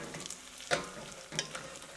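Bacon fries in a pan with a soft, steady sizzle, broken by two brief louder crackling bursts.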